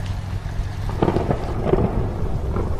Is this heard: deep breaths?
no